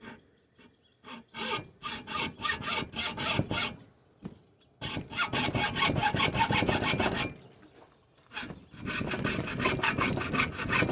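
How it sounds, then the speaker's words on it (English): Hand saw strokes rasping through antler in quick rhythmic bursts, close by, with short pauses between runs of sawing. "Let's see if we can get some of this sawing action."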